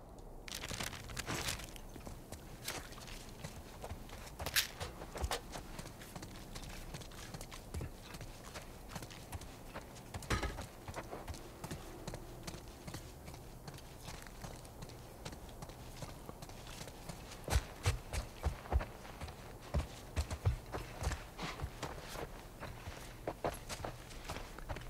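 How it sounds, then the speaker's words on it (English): Steady footsteps crunching over debris in The Last of Us Part 1, a close, regular walking rhythm with scattered louder scuffs and crinkles throughout. "I'm pretty sure I hear someone else's footsteps."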